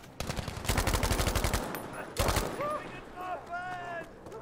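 Automatic gunfire in Battlefield V on the Airstrip map, with two loud, rapid bursts of shots close by and a short gap between them, then quieter game effects with faint whistling tones.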